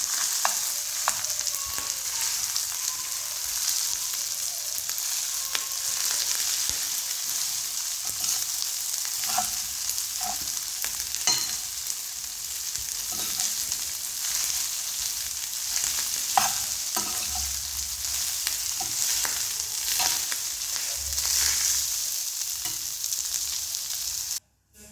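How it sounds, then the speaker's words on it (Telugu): Leftover rice for egg fried rice is stirred in a hot pan, giving a steady, close sizzle broken by scraping clicks of the spoon, with no talking. "ఇప్పుడు మనం అన్నం అయితే వేసేసుకుందాము. దీన్ని కూడా ఒకసారి కలుపుకుందాం."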